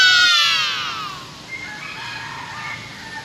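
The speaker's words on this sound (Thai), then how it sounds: "มีเสียงไก่ป่า ขันนะครับ" A wild junglefowl crows once in the forest behind Wat Phu Khao Kaew temple in Thailand, a clear drawn-out call that fades, followed by quieter outdoor ambience with faint bird sounds.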